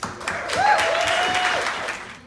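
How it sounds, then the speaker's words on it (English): Applause from a room of women at an inspirational talk, a dense steady wash of many clapping hands that swells and then eases off over about two seconds, with a faint tonal whistle or cheer riding on top. "give yourself applause"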